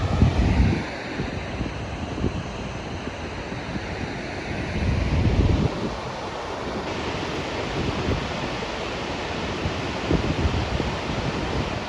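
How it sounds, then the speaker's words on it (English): A large two-tiered waterfall plunges into a big pool in the Husedalen valley, Norway, giving a constant broad roaring wash with gusty wind buffeting in the foreground. "Spectacular spot, just an enormous like basin here with the two-tiered falls into this big pool at the base"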